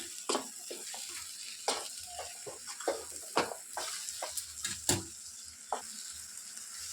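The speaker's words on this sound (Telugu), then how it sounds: "సో కారం పొడి వేసాక 1 మినిట్ వరకు బాగా ఫ్రై చేసుకోవాలి, మీడియం ఫ్లేమ్లో పెట్టేసుకొని." A chili powder mixture frying in a pan over a medium flame gives a soft continuous sizzle, broken by sharp spatula scrapes and taps at irregular intervals, with no speech.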